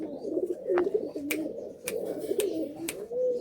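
Pigeons cooing in a cage at a Malwai and Madrasi pigeon loft, repeated soft low coos close by with a few faint chirps and clicks in the background.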